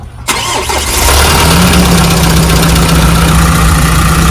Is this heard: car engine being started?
yes